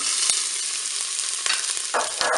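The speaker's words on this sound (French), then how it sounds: "l'huile est chaude, je vais pouvoir mettre mes oignons" Onions fry in hot oil inside a Cookeo multicooker bowl with a loud, even crackling sizzle and a few sharp utensil taps and scrapes over the short stretch.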